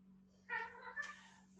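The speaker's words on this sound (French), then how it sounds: "l'autre chat continue à gna gna gna gna gna" A house cat gives two short, clear meows in quick succession, close and fairly loud over a steady low hum, with no talking.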